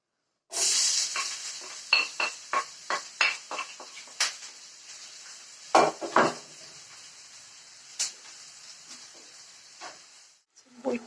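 Borscht base of food hisses steadily in a hot pot while a utensil scrapes and clinks against it in repeated stirring strokes, close by.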